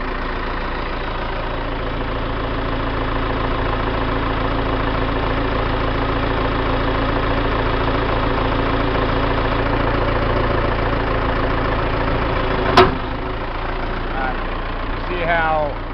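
A tractor engine idles steadily and close at a worksite with a 2.5 yard two-wheel scraper hitched behind, a constant mid-low drone broken by one sharp knock near the end.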